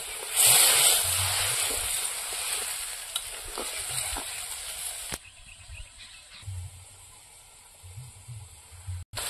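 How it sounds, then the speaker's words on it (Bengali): Muitha, a dumpling dish, simmering in a pan: a loud, dense bubbling sizzle at first that drops to a quieter, steady hiss with intermittent soft pops, heard close and alone. "এবার ভালো করে ফুটিয়ে নেব।"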